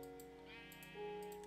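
A sheep bleats in a video game, a faint wavering cry whose pitch bends upward partway through, with soft tapping clicks in the background.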